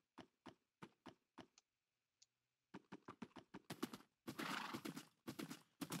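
A Minecraft horse heard alone: a string of sharp, evenly spaced clip-clop hoofbeats and snorts, a short pause, then a loud drawn-out whinny broken by further hoof clops, close and fairly loud.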